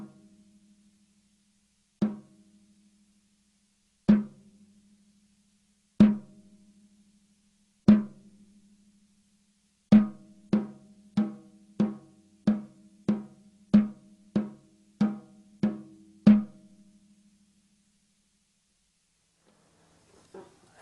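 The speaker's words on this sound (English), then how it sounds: "striking the drum with the back of the stick" A drum struck with the back of the drumstick rings out in single, evenly spaced hits, then speeds into a quicker run of about a dozen sharp strokes before stopping, clean and close with no talk.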